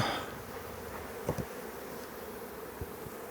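Bees humming inside an opened mother hive, a soft steady buzz with a few brief louder passes of individual bees close by, no talking.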